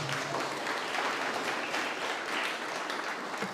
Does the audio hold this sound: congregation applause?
yes